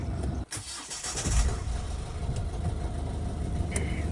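A petrol Mazda 3, 1.6 or 2.0 litre, cranks briefly and fires up with a sharp catch, then settles into a steady idle close by, with a few light clicks and no talking.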